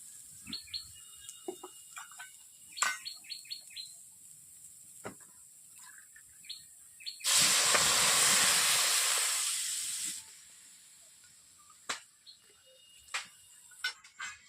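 Bottle gourd, carrot, beans and potato steam with a little water in a covered pan, giving a loud, steady steam hiss that lasts about three seconds. Scattered bird chirps sound around it in an otherwise quiet room.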